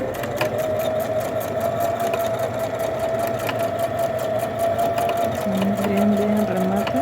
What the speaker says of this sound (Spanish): Hay que hacerle un poco de remate para que no se salga la costura.